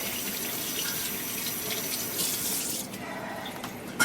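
Tap water runs steadily over an apple at a sink, a continuous close hiss and splash that shifts and thins near the end.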